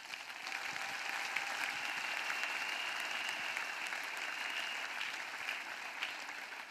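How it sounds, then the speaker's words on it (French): A church congregation clapping together during an evening prayer and intercession service, steady dense applause that holds at an even level for about seven seconds, heard without speech. "Acclame. Clap."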